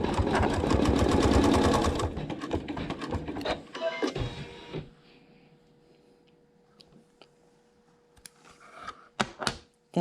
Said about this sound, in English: Keeping with the same thread, I'll stitch the seam.